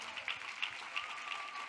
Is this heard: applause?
yes